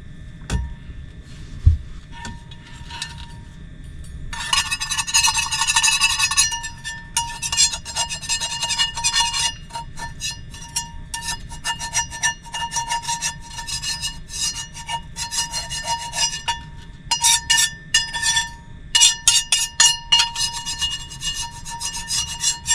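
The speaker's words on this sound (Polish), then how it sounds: "Tu trzeba to zeskrobać." Hand scraping of material off a surface, a steady run of gritty, rasping strokes that grows busier and louder after the first few seconds and continues in uneven bursts, close up with no talking.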